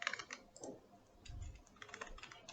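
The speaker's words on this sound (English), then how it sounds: "Now type your password here." A password is typed on a computer keyboard, with quiet, close key clicks coming in short uneven bursts and a soft thump partway through.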